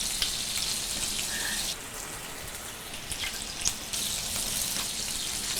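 Sauce of aged sake reducing in a pan over high heat, a steady dense hiss of bubbling and sizzling that dips midway then returns, close and continuous with no talking.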